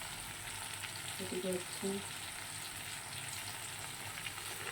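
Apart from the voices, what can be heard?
okra and potato curry frying with nigella seeds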